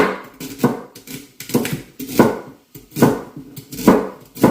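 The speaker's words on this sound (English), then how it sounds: "And then we'll cut up the celery sticks" A knife chops celery sticks on a board with a steady run of close, crisp thuds, roughly two per second, each with a short scraping tail. The chopping is loud and clear, with no voices.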